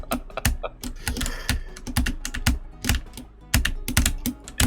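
Close, brisk clatter of a computer keyboard, with irregular bursts of sharp keystrokes and heavier thumps, some keys struck in rapid clusters, with no voices over it.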